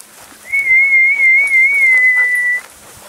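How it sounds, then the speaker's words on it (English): A single sustained, steady whistle, loud and close, held for about two seconds at a nearly constant pitch to call a dog outdoors, with no talking over it. "Let's whistle and see if we can get her."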